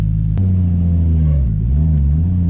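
A high-powered Toyota Chaser with an aggressive clutch sets off, its engine a loud, steady rumble close by that swells and dips in pitch as it revs and pulls away.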